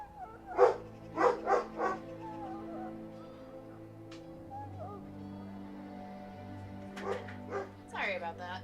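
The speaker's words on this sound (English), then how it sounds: "He's gonna keep barking, but at least it won't be as loud." A dog barks in a quick burst of three or four loud, close yips, then goes quiet under a steady hum while a person talks, and it barks again in another short cluster near the end.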